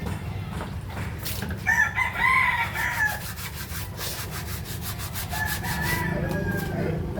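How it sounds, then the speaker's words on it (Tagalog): A rooster crows loudly nearby, a long rising call, followed later by another fainter crow over a constant scratchy background rumble. "Naririnig yung boses sa manok."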